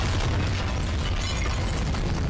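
A Bombarda explosion spell goes off in Hogwarts Legacy inside a tomb, a dense, sustained booming blast with rumbling low end that stays loud throughout.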